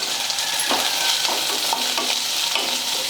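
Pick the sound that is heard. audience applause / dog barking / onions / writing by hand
onions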